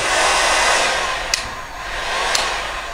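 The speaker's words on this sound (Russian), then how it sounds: "И этот фен прошел все три испытания." A continuous loud whoosh of a BORT hot air gun blowing steadily up close at 600 degrees, with two faint clicks partway through.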